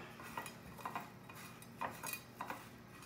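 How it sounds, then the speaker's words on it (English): Panko crumbs and Parmesan are mixed in a bowl with a utensil, giving scattered light clinks and scrapes that come in quick, uneven bursts, quiet and close by. "You need to put that right into your crumbs and mix them all up."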